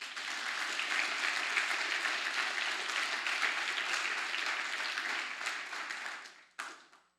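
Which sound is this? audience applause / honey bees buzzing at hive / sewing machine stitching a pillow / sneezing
audience applause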